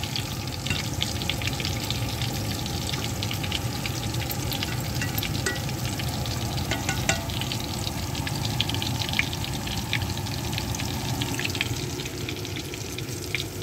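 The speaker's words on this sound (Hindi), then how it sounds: "कबाब वगैरह फ्राई कर दो तो मैं उनके लिए वो फ्राई कर रही हूँ" Kebabs frying in a pan at home make a loud, continuous close sizzle and crackle of hot oil, with occasional sharper pops and stirring sounds, and no talk.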